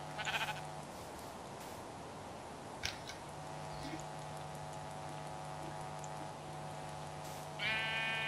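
Blocky sheep in Minecraft bleat a few times over steady game background sounds, with a short bleat near the start and a brighter, clearer one at the end.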